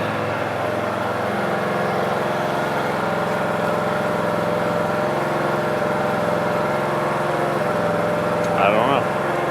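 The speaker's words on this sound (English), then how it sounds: "that was a bad idea to play with that lawn tractor" A lawn tractor engine runs inside an enclosed barn, a steady droning hum that holds even throughout, with a brief higher rattle near the end.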